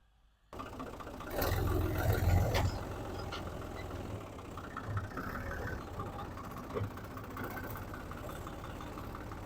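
A tractor engine runs steadily with a 60-cutter rotavator attached, starting abruptly after a brief silence, with a louder surge in the first seconds before it settles into a constant mid-level drone.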